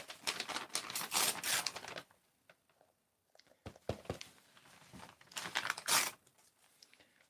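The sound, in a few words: tearing paper for papier-mâché box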